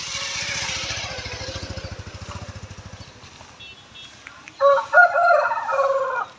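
Chickens cluck and chatter close by, then a rooster crows loudly near the end.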